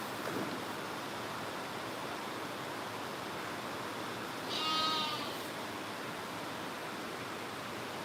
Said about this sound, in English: You can see them, the sucky lambs I just fed there, look.